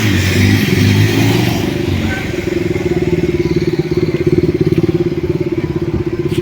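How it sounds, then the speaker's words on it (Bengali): Loud motorcycle engines roaring nearby, with a rapid pulsing exhaust throb as bikes race along an empty road. "ও মাই গড বাইক রেস করছে"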